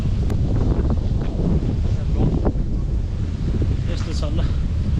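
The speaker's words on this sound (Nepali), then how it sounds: "हावाहुरी व्यापक चलिरहेको छ" Strong gusting wind roars loudly and steadily across an outdoor microphone for several seconds, with voices talking underneath.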